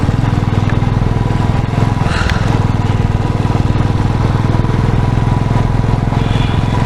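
A motorcycle engine drones steadily during a foggy ride on the Agumbe Ghat road, a loud close mid-pitched hum with rhythmic pulsing and wind rush, running continuously without a break.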